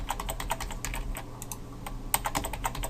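Keys on a computer keyboard clatter in a steady run of quick taps as a password is entered, close and crisp, with a short burst of slightly louder strokes near the end and no voices.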